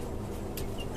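Desi hens clucking in cages on a poultry farm, a steady dense flock murmur running throughout with a few brief sharper calls standing out, close and fairly loud, with no talking.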